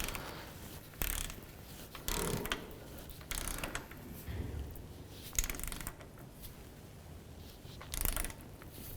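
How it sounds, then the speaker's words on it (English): A ratchet tightens an 18mm bolt on the front shock of a 2007-17 Jeep Wrangler, producing repeated short bursts of clicking pawl ratcheting up close, separated by brief pauses. "Using 18mm, go ahead and tighten down this bolt to 72 foot-pounds."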